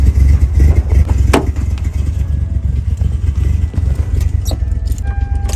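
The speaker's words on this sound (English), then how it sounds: "The 87 warms up really nice now with the Weber 38 and the electric choke." The 1987 Toyota pickup engine, fitted with a Weber 38 carburetor and an electric choke, idles nearby as it warms up. Its low, steady rumble carries a few sharp clicks and knocks over it.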